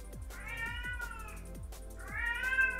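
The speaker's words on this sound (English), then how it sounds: "The cat's getting annoyed." An annoyed house cat meows several times in drawn-out, rising and falling cries, close by in a quiet indoor workshop setting where 3D printer parts are being prepped.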